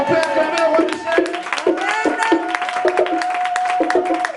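A church congregation claps along in rhythm amid a steady sustained musical tone, with regular sharp hand strikes close and loud through the whole stretch.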